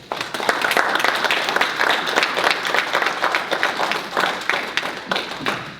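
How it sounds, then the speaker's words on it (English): A crowd applauds steadily for several seconds, many hands clapping in a dense, sustained patter with no talking over it. "Let's give him a round of applause."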